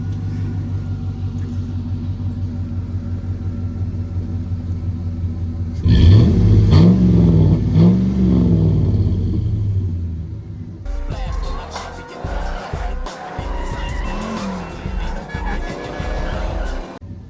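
A car fitted with an MBRP exhaust idles with a deep rumble, then revs hard with rising and falling engine swells, followed by a rougher, louder stretch of exhaust noise close by.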